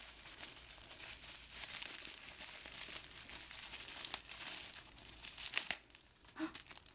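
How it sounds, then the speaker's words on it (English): Plastic packaging for a compact shoulder bag is ripped open close up, with crinkling, crackling handling and tearing bursts that grow louder toward the end. The sound is fairly quiet overall. "And then in here, I'm just going to rip this open."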